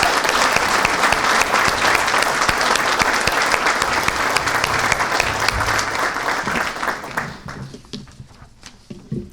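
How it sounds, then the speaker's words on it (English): A chamber of commerce awards breakfast crowd gives the honorees a big round of applause that holds strong for several seconds, then thins out and fades away near the end. "let's give them a great round of applause"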